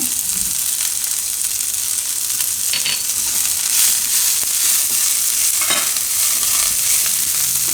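Broccoli sizzles steadily in a hot pan for a pasta dish while a utensil stirs it, with occasional scraping strokes over a constant close frying hiss and no talking.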